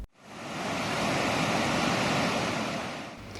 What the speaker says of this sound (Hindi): शाहनूर नदी में बाढ़ आ गई है